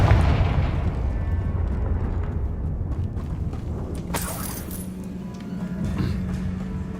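A Confringo fire spell blast in Hogwarts Legacy, a loud rumbling low explosion that slowly decays, followed by crackling debris and a few sharp clinks and impacts.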